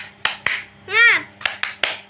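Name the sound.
class clapping chant 'tepuk semangat'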